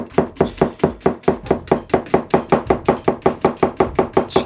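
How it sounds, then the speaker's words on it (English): A knife chops food with quick straight up-and-down strokes on a cutting board, about five crisp knocks per second in a steady even rhythm, close and clear with no talking. "Straight up and down chopping is crazy."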